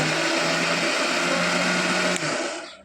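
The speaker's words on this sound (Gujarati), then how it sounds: "જો આપણા મુઠિયા છે ને મિક્સરમાં ગાય છે" A mixer grinder grinding muthiya whirs loudly and steadily up close, then spins down and fades out at the end.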